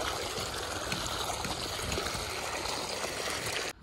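Clean, clear water flowing steadily outdoors, likely in a farm field channel, a continuous close broadband rush and trickle with no talk, cutting off just before the end.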